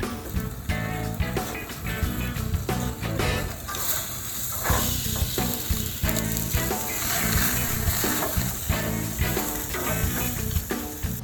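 Tomahawk ribeye steak sizzling loudly on an outdoor grill as it is flipped, a steady dense crackle and hiss with sharper bursts, close and continuous throughout, with faint voices now and then.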